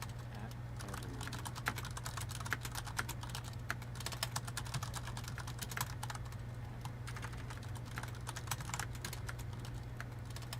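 Rapid, uneven keystrokes on a computer keyboard, close and crisp, clattering steadily for the whole stretch over a constant low electrical hum, with no voice.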